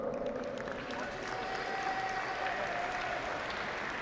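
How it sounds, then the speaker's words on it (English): Steady crowd applause at the 2023 NFAA Indoor National Championship archery shoot-offs, honoring the winners; dense, even clapping in an indoor venue with a faint tonal hum running beneath. "Big round of applause"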